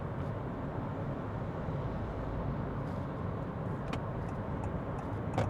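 Cabin of a 2025 Honda HR-V hybrid cruising at 85 km/h, a steady low road and engine rumble with faint ticks and clicks above it, even and moderately quiet, no voices.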